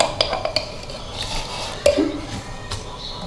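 Homemade butter being scooped into a metal vessel while making desi ghee, with scattered scraping taps and clinks of a spoon against metal, close and sparse.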